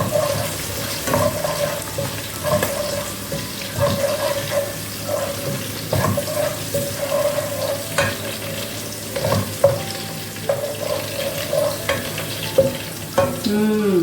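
Crushed garlic and ginger frying in coconut oil in a home kitchen, a steady sizzle with repeated stirring and scraping of a spoon against the pan, running continuously with no talking.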